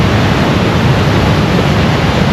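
Violent ocean surf and riptides off American Samoa roar as a dense, steady wash of loud crashing water, close and unbroken for the couple of seconds, with no voices.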